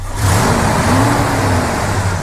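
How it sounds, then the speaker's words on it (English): A 1976 Ford F250 Supercab pickup engine revving up close, rising into a loud, sustained roar with a steady mid-pitched drone and no voices over it. "Go ahead and rev it up a little bit."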